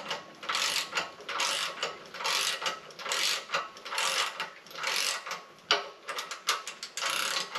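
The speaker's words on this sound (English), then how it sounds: "So what I'm going to do is I'm going to pull this nut back off." A ratchet wrench cranks a nut back off a Mazda Miata differential in rapid bursts of close, loud clicking, with short pauses between strokes and a quicker flurry near the end, no talking.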